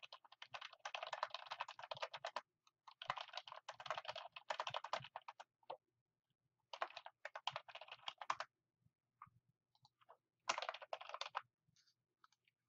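Rapid typing on a computer keyboard comes in bursts separated by short pauses, close and crisp, with scattered single key taps in between.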